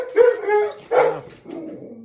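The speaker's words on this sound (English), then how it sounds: "My dog's flipping out. There's a dog walking by." A pet dog barks sharply a few times indoors, reacting to another dog walking past outside, loud and close with short gaps between barks.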